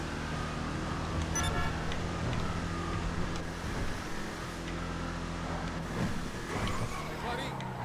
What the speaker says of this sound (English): It's got a great sounding engine.